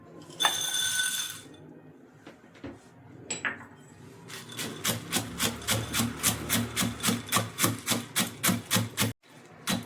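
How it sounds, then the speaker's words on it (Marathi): Peanuts coarsely pounded for sesame jaggery laddu: after a few scrapes and knocks, a close, loud run of rhythmic pounding strikes repeats evenly for several seconds, then stops abruptly. "आपण आता इथे शेंगदाणे कुटून घ्यायचे आहेत."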